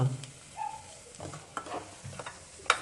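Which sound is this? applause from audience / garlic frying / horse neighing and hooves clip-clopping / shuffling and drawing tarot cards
garlic frying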